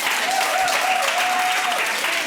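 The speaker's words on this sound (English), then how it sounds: "I think that deserves another round of applause" An audience at a Hall of Fame induction ceremony bursts into loud, sustained applause, many hands clapping densely and evenly, with faint whistles or cheers riding on top.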